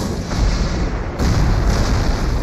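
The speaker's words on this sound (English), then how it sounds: "Heavy artillery clears the Germans" Heavy artillery fires during a WWII tank battle. A dense, rumbling roar of booms steps up to a louder barrage midway, with no voices.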